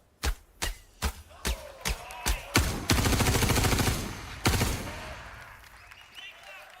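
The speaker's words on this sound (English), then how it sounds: "this next demo, we're going to fire some bullets" A string of single sharp gunshots cracks out one by one, then gives way to a sustained burst of rapid fire into water in a Star Citizen tech demo, followed by one last loud shot and a fading splashy tail.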